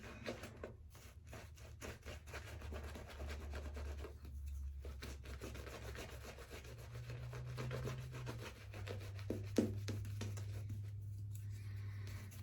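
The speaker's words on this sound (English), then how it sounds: "I'm kind of mostly face lathering this, kind of bowl lathering, face lathering" A shaving brush works Williams soap into lather on the face, a continuous close soft rubbing and swishing with slight wet texture, steady throughout without speech.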